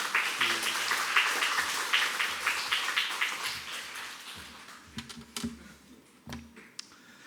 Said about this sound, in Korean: 영광의 박수 올리면서 함께 환영하도록 하겠습니다.